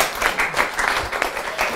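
A public-speaking class audience applauds a candidate, a dense and steady round of clapping heard close and fairly loud from start to finish.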